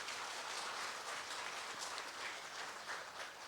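A church congregation claps together during a Sunday service, a dense, even wash of applause sustained and fairly soft, with no voices over it.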